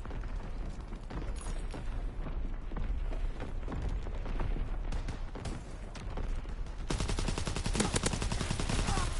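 Sten submachine gun fire in the World War II shooter Call of Duty WW2, with dense rapid bursts of automatic gunfire running nearly continuously, loud and close, amid other battlefield noise.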